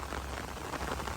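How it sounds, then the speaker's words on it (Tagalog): Heavy rain pours down during a storm at the Dolomite Sand beach, a dense, steady hiss of drops beating on surfaces throughout, with no voices. "Bumuhos ang malakas na ulan."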